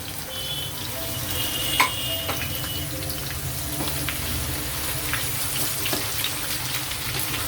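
Papaya pieces frying in a pan while being stirred give a steady, broadband sizzle that runs evenly throughout, with a few faint scrapes and no voices.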